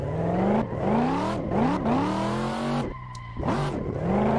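A car drifts in Assetto Corsa, driven on a controller, its engine revving and wailing up and down in loud, close sweeps while the tires squeal through long slides, with a brief drop in power midway.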